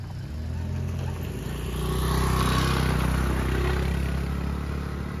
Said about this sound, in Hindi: बस इंजन के साउंड को थोड़ा ध्यान रखना।